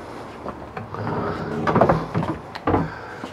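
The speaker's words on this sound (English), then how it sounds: "Beautiful pocket door here." A pocket door sliding in a 2017 Allegro Bus 40SP motorhome: close, rumbling rolling and rattling as it travels, ending in a few soft knocks and thuds. No voices are heard.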